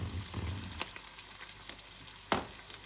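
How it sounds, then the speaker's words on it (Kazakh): Onions fry in oil in a pan on the stove with a steady, close bubbling sizzle, punctuated by a few sharp clicks and spatters from stirring. "Ең алдымен пиязымызды алып қуырып аламыз."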